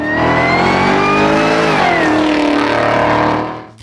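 A 1967 Pontiac GTO muscle car engine revs loudly and steadily with a rich, rising and falling tone, close up and alone, with no talk, then fades out at the very end.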